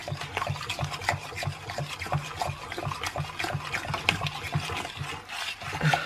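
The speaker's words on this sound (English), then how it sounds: "now I'll just mix it until I've got a lovely smooth and creamy truffle mixture" A mascarpone and dark chocolate truffle mixture is stirred in a bowl, giving soft, wet squelching and scraping sounds in an irregular rhythm, close up, with no talking.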